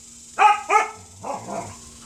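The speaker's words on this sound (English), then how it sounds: "Why are you barking so much?" A dog barks twice in quick succession, sharp and close, followed by a couple of softer whining yips, indoors with no talking over it.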